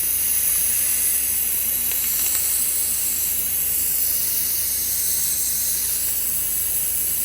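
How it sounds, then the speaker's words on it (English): Steady, loud hiss of air escaping a tire as it is let down to replace the valve stem, a continuous broadband rush that holds without a break from start to finish. "let me get this air out of here"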